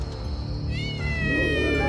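A cat meows as a sound effect in a horror story, a drawn-out wailing yowl that rises in pitch over a murky droning background.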